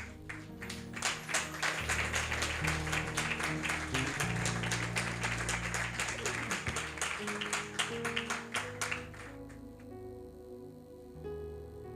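A church congregation applauds in a long, dense burst of clapping after a scripture reading, steady and fairly loud, then fading out toward the end, with a low instrumental drone beneath.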